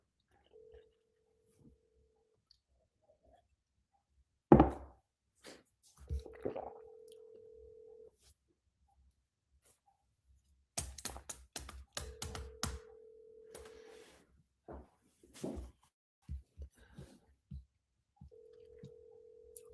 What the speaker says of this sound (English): just listening to the phone ring